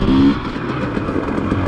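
A dirt bike engine holds a steady, loud, rough drone with a brief higher surge at the start during a wheelie attempt, close by and without talk.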